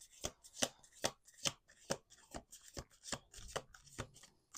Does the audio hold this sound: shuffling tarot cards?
yes